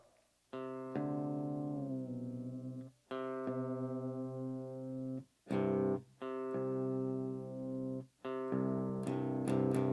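An electric guitar tone is plucked and held repeatedly, one sustained note at a time with short gaps, each pitch steadied as the strings are tuned.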